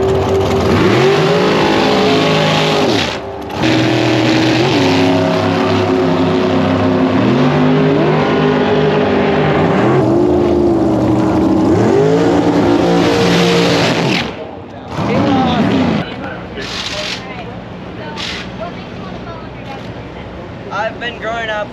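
A small race car's engine revs and winds up repeatedly at a Las Vegas qualifying event, loud rising and falling pitch sweeps close by, cutting briefly mid-way and giving way to quieter idling near the end.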